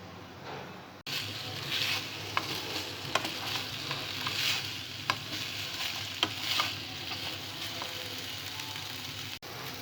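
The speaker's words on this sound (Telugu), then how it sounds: "చికెన్లో ఉన్న తడి మొత్తం పోయే వరకు వీటిని బాగా డ్రై రోస్ట్ చేసుకోవాలి." Chicken pieces dry-roast in a hot pan with a steady close sizzle and crackle, while occasional scraping stirs and sharp pops cut through, starting after a brief quiet moment.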